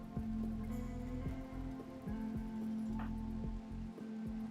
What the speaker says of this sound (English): there's the rain to put back out the fires